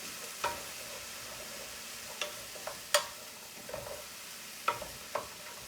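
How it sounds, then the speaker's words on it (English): Soup ingredients and stock being stirred together in a pot, with several soft scraping and knocking strokes spaced irregularly, close and fairly quiet, with no talking. "Stir all that together."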